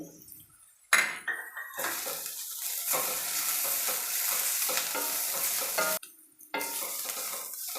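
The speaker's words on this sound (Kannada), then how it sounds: "ನಾನು ಚಿಲ್ಲಿ ಫ್ಲೆಕ್ಸ್ನ ಸೇರಿಸ್ತಾ ಇದ್ದೀನಿ ಈಗ ಇದು ಸ್ವಲ್ಪ ಎಣ್ಣೆಯಲ್ಲಿ ಫ್ರೈ ಆಗಲಿ" Chili flakes fry and sizzle in hot oil in a pan while a spoon stirs and scrapes them around, a steady close crackle with a few brief pauses and light clinks of metal.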